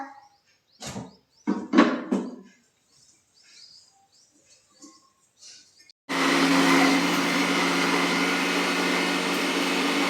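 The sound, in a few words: mixer grinder crushing chutney ingredients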